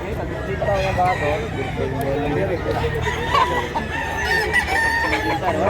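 Roosters and chickens at a poultry market in Mantalungon, Barili, Cebu, clucking and crowing steadily throughout amid crowd noise, with people talking close by over the birds.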